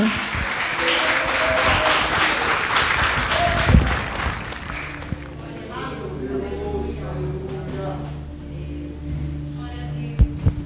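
Church congregation claps in worship for roughly five seconds, dense and rhythmic, then fades into a sustained tonal hum with a voice and occasional sharp taps.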